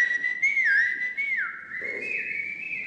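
A person whistles a loud, clear melodic call with rising and falling slides, sustained for a few seconds and close by.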